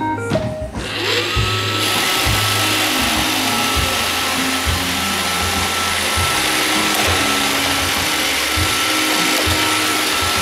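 An iRobot Roomba 550 robot vacuum runs straight ahead with a constant motor whir and a repeating mechanical ratcheting pulse, loud and close, with no talking.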